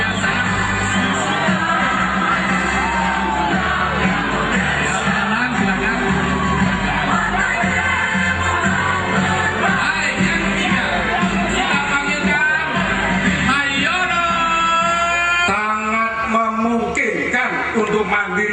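Lively crowd applause and cheering, with shouts and whoops, at a Democrat party convention event in Medan, sustained and dense throughout, loud and close.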